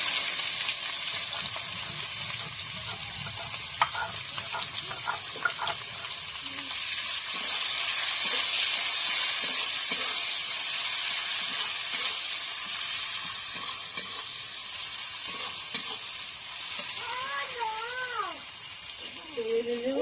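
Cumin seeds and onion sizzle steadily in hot oil for a Bengali gular recipe, a continuous bright crackle with occasional stirring clinks, a cat meowing briefly near the end.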